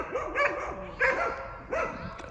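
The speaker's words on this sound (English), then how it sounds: "I think two dogs are falling out." Two dogs fighting near a fishing lake, three bursts of sharp barking and snarling spaced about half a second apart, moderately close and with no talk.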